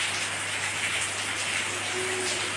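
Steady rain falling outdoors, an even wash of dense patter on surfaces with no breaks or voices.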